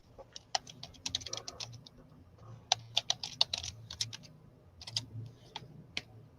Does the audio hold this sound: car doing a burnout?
no